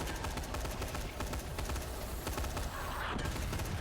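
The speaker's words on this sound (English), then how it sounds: "Big explosion." A big explosion in a video game, a dense, loud rumbling burst of crackling debris that goes on continuously, with no clear speech over it.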